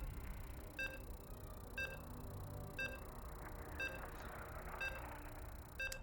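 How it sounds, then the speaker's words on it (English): Loading beeps in the video game StarCraft II during an esports match, a regular series of short, high electronic tones about once a second, six in all, faint over a low background hum with no voices. "You can hear the beeps."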